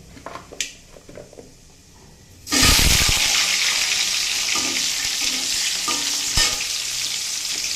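Vegetables dropped into hot oil tempered with whole spices for bhuna khichuri, with quiet kitchen clatter, then a sudden loud burst of sizzling that keeps hissing steadily up close, broken by a few stirring knocks.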